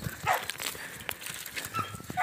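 Dogs bark and yip in short repeated bursts at a moderate distance outdoors in the countryside of northeastern Brazil, mixed with rustling and faint background noise.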